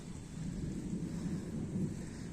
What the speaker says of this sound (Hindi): बिजली नहीं कड़क रही, बादल गरज रहे हैं इनफैक्ट।